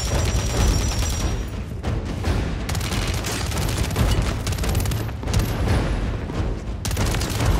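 Rapid SMG fire from the Warzone video game, in dense sustained bursts with short pauses and heavy booming impacts, loud and continuous throughout.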